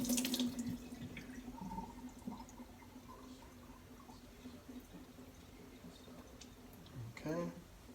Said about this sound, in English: empty out the water in the sink.